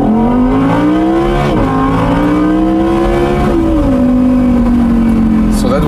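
An Audi R8 Spyder V10 540 hp accelerates hard in normal mode, a loud, continuous engine howl that climbs in pitch through each gear and drops briefly at each upshift, heard from inside the open-top car with a voice talking over it.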